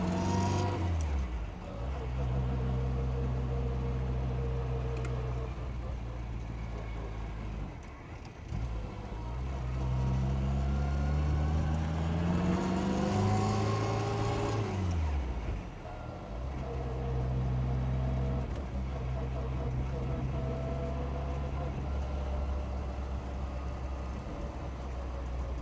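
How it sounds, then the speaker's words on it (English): A 1960 Austin-Healey Bugeye Sprite pulling in second gear at walking speed, its engine a steady close drone whose pitch rises and falls with throttle over nearly half a minute, with a voice faintly under it. "So second gear in these Bugeyes is just so tractable."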